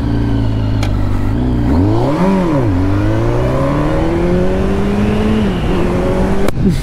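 A 2010 Kawasaki Ninja ZX10R sport motorcycle with a 1000 cc, 200 hp engine runs loud and close, its note rising and falling as the throttle is blipped, then holding a steady drone with a slow climb.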